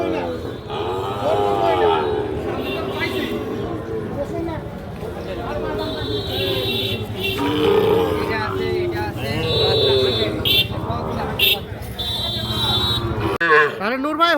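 Sahiwal bulls and calves at a farm in Fatikchhari, Chattogram, lowing now and then beneath nearly continuous nearby talk from several people.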